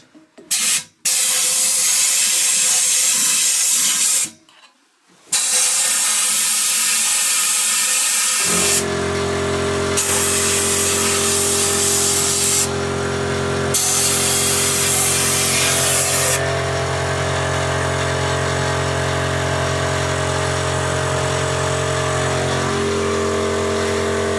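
A steady, loud hiss of pressurized water spraying continuously while washing a tractor, with brief interruptions early on and a low engine hum underneath for most of the time.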